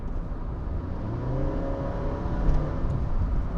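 A Honda City with a CVT gearbox accelerates from about 70 to 80 km/h, a steady low engine drone and road hum heard from inside the cabin that swells gradually without gear shifts.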